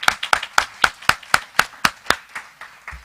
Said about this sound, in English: one more round of applause for LaDonna.